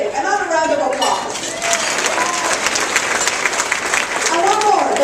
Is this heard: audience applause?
yes